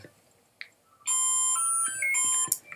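Phone in a room emits a loud, sustained electronic alarm-like beeping tone for about a second and a half, with a few softer clicks around it.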